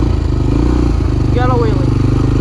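A 1987 Honda TRX250X 250 quad's engine revs up loud and close in a steady throbbing beat, pulling into a wheelie, with a high whining sweep partway through and a person talking over it.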